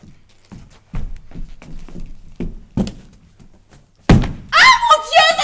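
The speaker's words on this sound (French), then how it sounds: "J'ai laissé tomber" Several soft thuds of cardboard boxes being dropped, spaced a beat apart, followed by a loud impact and then excited talking and exclamations.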